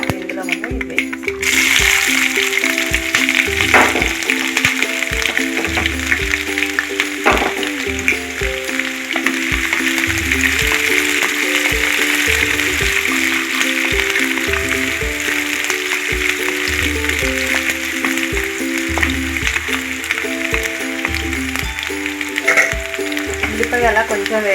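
Tempering spices sizzle and crackle in hot oil for a Telugu ivy gourd (dondakaya) fry, a loud steady frying hiss with spoon stirring clicks and a voice talking throughout.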